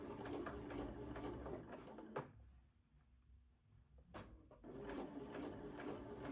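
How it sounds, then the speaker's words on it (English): A sewing machine runs a quarter-inch seam through cotton quilt pieces cut for a Mill Wheel pattern, stitching steadily in two bursts with a brief pause between, close up and moderately loud, with no talking. "I will sew the 1/4 inch seam allowance."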